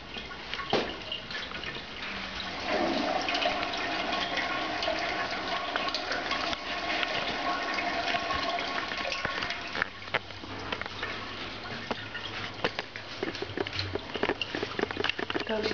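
Water rushes steadily from an old 1800s toilet as it flushes and refills in a house bathroom, a close, continuous wash of hiss and gurgle that swells for a few seconds and then settles into a long refill stream.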